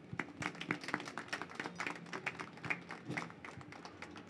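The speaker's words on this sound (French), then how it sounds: "que je vous demande d'applaudir bien fort" An audience applauds Miss Guadeloupe at an inauguration ceremony, a faint, dense patter of clapping hands heard from a distance and lasting several seconds.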